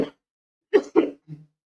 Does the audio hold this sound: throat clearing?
yes